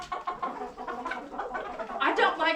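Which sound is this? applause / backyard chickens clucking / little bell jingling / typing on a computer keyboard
backyard chickens clucking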